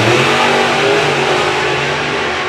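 Drag racing cars, one of them running nitrous, launch together at a strip event with a loud, sustained, broadband engine roar that fills the whole moment, close and unbroken, with no talking.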